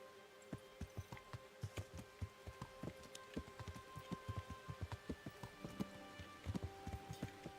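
Rain in a video game falls as a soft, steady patter, with regular sharp taps repeating alongside it at a quiet level.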